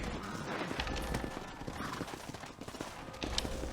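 Horse hooves clop unevenly for a few seconds in Red Dead Redemption, mixed with other game sounds and faint background noise.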